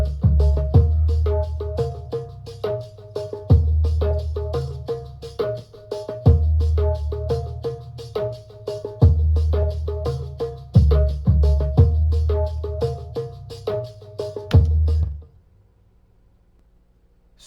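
A steady, busy percussion loop of deep bass drum thumps played with mallets, with bongo hits and tambourine jingles, repeating in a driving rhythm before stopping abruptly near the end.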